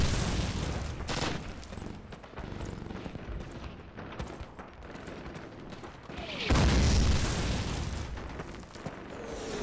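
Artillery bombardment in a Call of Duty video game, with repeated heavy booms and crackling bursts of varying loudness and a big, close blast near the end.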